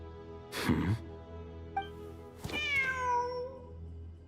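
A cat meowing in the video game Genshin Impact, two distinct close meows about two seconds apart, the second drawn out and falling in pitch, over soft background game music.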